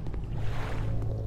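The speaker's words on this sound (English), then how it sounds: "I hear the waves" Ocean waves in the Fall of the Titanic video game, a steady low rumbling wash of surf and water with no clear breaks, heard alone and moderately loud throughout.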